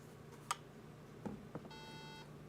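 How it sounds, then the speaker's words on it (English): A robot controller beeps as it connects to the robot, a short tonal beep near the end that sits faintly in a quiet room, with a few soft clicks before it. "you may have heard that beep. That was the controller connecting to the robot."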